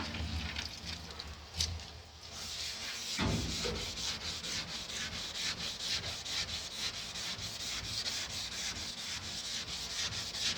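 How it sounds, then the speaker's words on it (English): Urethane primer on an auto body panel being ground and sanded, a steady, close abrasive rubbing that runs almost unbroken, with one short pause near the start. "this heat is really great to grind urethane primer"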